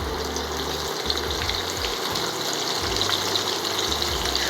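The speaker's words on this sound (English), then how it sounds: "The sizzle is the sound of it" A steady, fairly quiet hiss and crackle of chicken frying in oil, close by with a low hum underneath.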